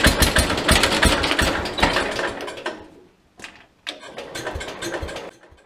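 A garden tractor's small engine, fitted with a choke, runs loud and close with a busy mechanical clatter, drops away briefly, then catches and runs again.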